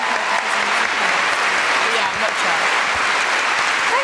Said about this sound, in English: Big round of applause for Sian Clifford!